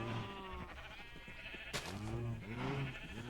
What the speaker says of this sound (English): We got freaking sheep running around.